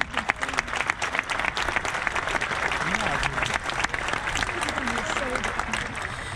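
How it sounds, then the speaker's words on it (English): Sustained applause from a graduation audience honoring teachers, staff and administrators, steady dense clapping with crowd noise and faint voices mixed in throughout. "can we get a round of applause for the teachers, staff, and administrators?"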